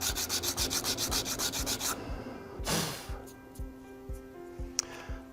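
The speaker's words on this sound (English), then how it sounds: "then we'll sand off the lines, the scratches that the belt sander made here by hand." Hand sanding by a woodworker removing belt sander scratches on a wooden bridge: a fast, even run of rhythmic rubbing strokes, then a few slower, softer passes, close and alone.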